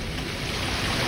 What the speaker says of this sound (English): Muddy water surged through the city, swallowing vehicles and everything along its path.